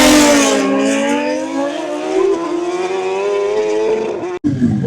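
A motorcycle at a drag racing event, its engine howling loud and close as it revs up steadily in pitch for several seconds, with a brief cutout near the end.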